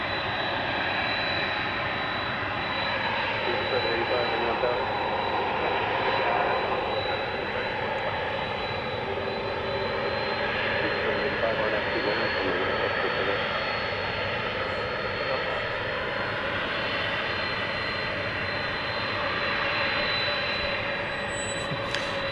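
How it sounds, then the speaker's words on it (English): Airbus A340 jet engines of a Viva Aerobus airliner at night at DFW Airport, a steady, broad roar with a high whine, continuous and fairly distant, with no talk over it. "We do have Viva Aerobus flight 786 going to Silao in Mexico, an Airbus A340."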